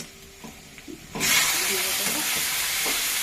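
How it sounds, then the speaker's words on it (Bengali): Goat meat pieces fried and stirred in a pan for a curry: quiet kitchen clatter gives way to a sudden loud, sustained sizzle once the meat hits the hot oil, with stirring scrapes beneath. "সুন্দর করে মাংসটা কষে নেব"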